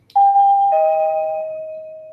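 A dinky wireless doorbell chime plays one short, loud electronic tone sequence, a bright two-note ding with a long fading tail, alone in a quiet room.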